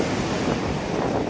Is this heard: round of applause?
no